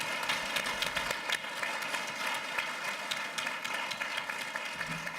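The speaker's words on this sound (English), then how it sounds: "Please, an applause for them" Applause for young activists at a conference on children's rights, a sustained, fairly even clapping from a large room, somewhat distant and steady with occasional sharper claps.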